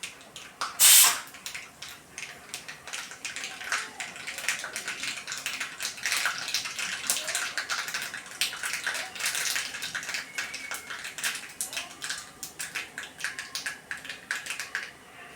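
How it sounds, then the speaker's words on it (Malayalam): Mustard seeds crackle and pop in hot oil while a kadala curry is being made, a dense, steady spattering of small sharp pops with one louder burst near the start, no voices. "കടുക് നല്ല പൊട്ടി വരുന്നുണ്ട്."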